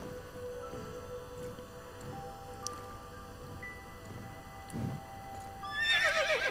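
A horse in the Star Stable Online game clip-clops along under soft ambient music, then gives a loud, shrill whinny near the end.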